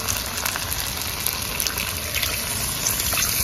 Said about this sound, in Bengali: এবার সামান্য জল দিয়ে দিব।